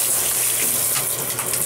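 Water gushes steadily from a tap while a husky puppy is bathed, a continuous close, loud running stream with no talk.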